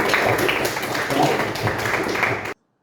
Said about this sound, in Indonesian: kasih tepuk tangan buat Aulia